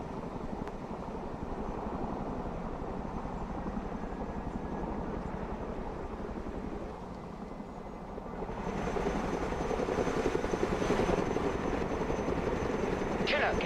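Chinook twin-rotor helicopter in a Broken Arrow military strategy game, a steady droning rotor hum that swells louder partway through, with voices talking over it.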